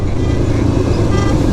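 Heavy traffic rush on GT Road in Lahore, a dense steady roar of cars, buses and motorcycles with a faint horn toot, loud and close.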